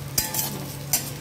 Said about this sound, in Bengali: মাছটাকে আমরা 2 থেকে 3 মিনিট একটু ফ্রাই করে নিলাম